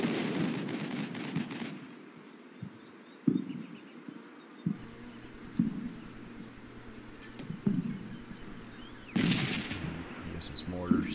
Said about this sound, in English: I guess it's mortars down there on the right.